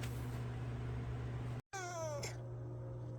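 A pet cat gives a single drawn-out meow up close, faint against a steady background hum, with no talking.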